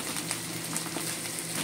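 Egg frying with bitter gourd and shrimp paste in a pan gives a steady, close crackling sizzle with fine popping throughout and no talk.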